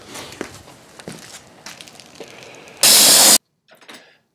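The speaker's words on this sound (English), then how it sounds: "I'm going to blast some carb spray through here to make sure any fine metal dust is out of there" A short, loud burst of aerosol carb cleaner hisses for about half a second through a cylinder head, following faint workshop clatter and light knocks.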